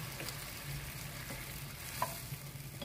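Fried fish and canned coconut milk go into a pan with ginger, giving a soft, steady frying sizzle with a faint light click partway through and no voices.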